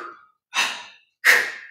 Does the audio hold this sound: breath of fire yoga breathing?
yes